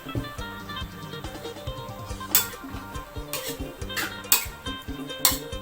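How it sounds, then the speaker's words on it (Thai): Mixed vegetables are stir-fried in a pan, with steady clattering and scraping of a utensil against the pan. Sharper clinks stand out now and then over a soft background sizzle. "ผัดไปเรื่อยๆพ่อแม่พี่น้องจน มันสุก"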